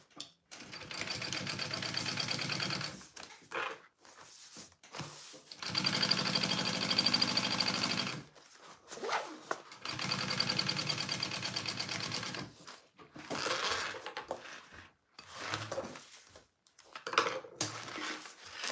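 Long runs of a sewing machine stitching fabric pieces together for a Petite Belle project, with steady close whirring broken by pauses and short clicks between the stretches.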